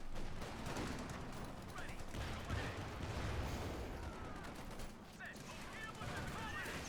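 Scattered rifle and machine-gun fire in a Company of Heroes 2 multiplayer battle, US Forces against OKW, with a Sherman tank in play, crackling faintly and steadily in the background throughout.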